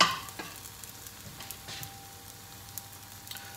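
Socca, a chickpea flatbread batter, sizzles gently in a pan with a quiet steady frying hiss and a few faint pops and ticks, close by and with no voices.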